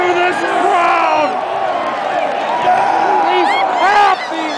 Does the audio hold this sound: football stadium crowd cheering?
yes